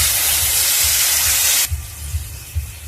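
Warm water hits hot frying masala paste for a Foli fish curry with a loud steam hiss that stops abruptly, leaving a low bubbling simmer.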